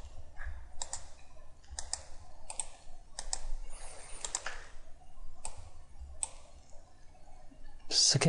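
Mouse clicks in Autodesk Inventor 2015 during 3D modeling, a series of crisp, close clicks spaced about a second apart, with a faint voice murmuring in the background.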